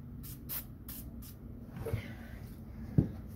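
Bursts of lubricant spray aimed at a rusty rear stabilizer bar link on a 2006 Honda Pilot, several short hisses in quick succession near the start, then quieter clanks and handling noises.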